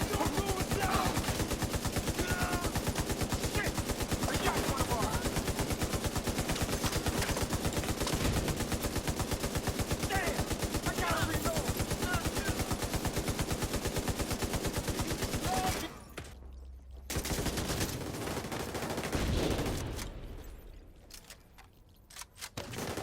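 Dense automatic gunfire roars nonstop in The Division 2 Warlords of New York, rapid rattling shots piling up loud and close, then cutting out briefly near the end before short renewed bursts.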